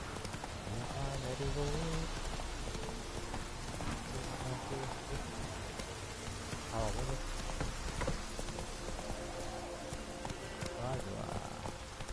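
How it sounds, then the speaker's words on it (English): Steady heavy rain pours down in The Witcher 3 video game, a continuous dense hiss with faint voices murmuring underneath. "This downpour's a bastard, it is."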